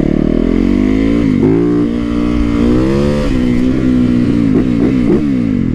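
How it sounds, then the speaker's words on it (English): Supermoto motorcycle engine revving loudly and close, harmonics rising and falling through several sharp throttle blips, with no talk. "That's what I love about the Supermoto, man."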